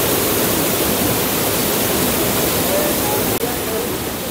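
The Kanchenjunga waterfall in west Sikkim, falling from a height in full flood, makes a loud, unbroken roar that fills the air.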